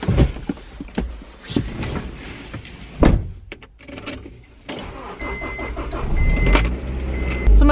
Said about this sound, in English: This car has not been driven in a little bit, so I don't know how long this is gonna take to warm up.